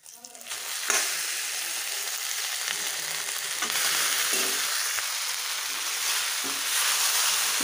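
Cooked rice is stirred into a hot tempering of green chillies, curry leaves, coriander powder and turmeric for lemon rice, giving a steady close sizzle and frying hiss with scraping stirs throughout, with no talking.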